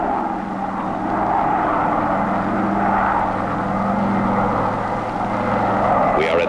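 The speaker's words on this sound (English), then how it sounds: "The plane drops rapidly toward the lake at a high speed," Small cargo plane diving quickly toward a lake to drop trout, its engine a steady loud drone with a low propeller hum throughout.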